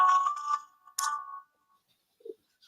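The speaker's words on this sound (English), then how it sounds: "that was my phone coming alive" A mobile phone ringtone sounds in short bright tonal bursts, two quick phrases close together and then a faint blip, with silence around them.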